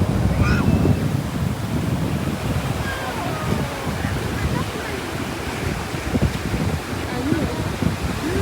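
Sea waves washing continuously onto a beach, a loud steady roar of surf with wind buffeting the microphone throughout.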